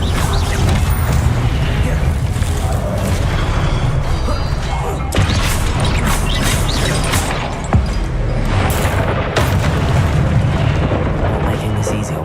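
Spells Confringo and Incendio blast and crash in Hogwarts Legacy, a dense run of booming impacts, crumbling debris and clattering effects that fills the whole stretch at close range.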